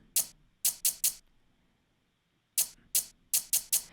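Hi-hat pedal drum sample triggered in Logic Pro: sharp, bright chick strokes, three quick hits, a pause, then two more, then a three-hit burst, crisp and close with quiet gaps between.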